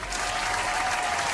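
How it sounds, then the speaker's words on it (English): A burst of dense, steady applause from a crowd, loud and continuous, with no gaps. "Let's give her a round of applause,"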